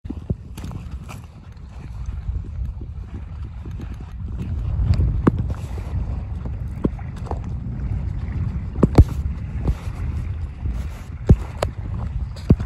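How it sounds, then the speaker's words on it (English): A small boat knocks and bumps along on the water off St. Vincent Island, with irregular clunks and splashes, wind rushing across the microphone throughout. "Out here doing it in the smallest boat of the fleet."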